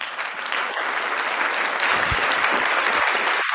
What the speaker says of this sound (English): Oh, he found the applause button.